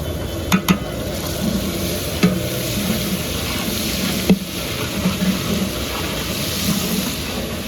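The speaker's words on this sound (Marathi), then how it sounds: "आता आपण याच्यामध्ये ॲड करतोय मिरची पेस्ट" Chili paste stirred into golden-brown onions frying in a large pot for mutton, a steady sizzle with occasional sharp clinks of the spoon against the vessel, close and without talk.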